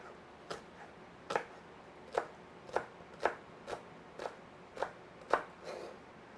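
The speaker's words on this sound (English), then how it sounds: "I'm going to take a couple of these onions, and then just slice them up." A knife slicing onions on a cutting board, nine or ten crisp, evenly spaced chops close by over about six seconds, with no one speaking.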